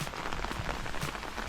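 Steady rain pattering on leaves and ground in a Swiss forest, a dense even hiss of drops close by with no voices.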